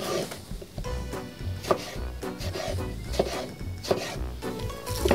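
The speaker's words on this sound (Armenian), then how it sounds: "կարող ենք կտրատել լուսնյակաձև և նույն ձև սմբուկը" Knife chopping squash and eggplant on a wooden cutting board, repeated cuts in an uneven rhythm, close and fairly loud over a busy kitchen background.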